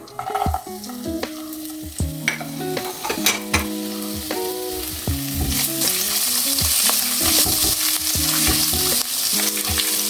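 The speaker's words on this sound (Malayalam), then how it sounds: "നമുക്ക് ഈ ഇഞ്ചി അരിഞ്ഞു വെച്ചിരിക്കുന്ന ഒന്ന് വറുത്തെടുക്കാം" Chopped ginger fries in coconut oil with a loud, continuous sizzle and occasional stirring clinks, heard under melodic background music with no talk.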